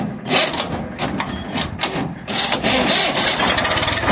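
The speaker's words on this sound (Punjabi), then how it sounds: "ਇੰਜਨ ਗੇਅਰ ਸੈਲਫ ਸਟਾਰਟ ਆ" A tractor engine cranks in repeated noisy bursts, then catches and runs at a steady, loud chug.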